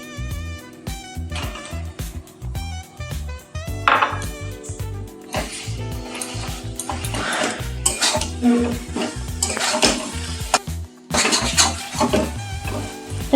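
Mutton keema added to a pan and stirred, with busy clattering, scraping and knocking of a utensil against the pan throughout, close and fairly loud.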